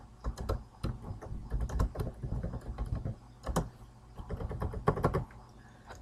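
Rapid, irregular clicking of keys on a computer keyboard as data is entered in QuickBooks accounting software, steady close taps with brief pauses and a few louder strokes.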